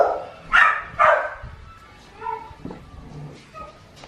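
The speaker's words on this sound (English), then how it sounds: "Colby, why is your bark so high-pitched? You're a big dog." A big dog gives several high-pitched, yippy barks in quick bursts close by, with quieter whines and noises from a second dog between them.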